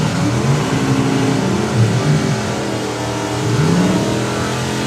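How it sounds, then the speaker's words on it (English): Beavis Allen's low 10-second Impala drag car launching at a Mopar drag racing event, a loud engine roar that rises and falls through rising pitch sweeps, with a constant crowd and track din underneath. "Beavis Allen with the Impala. It's a low 10-second car. Chassis twisting launch,"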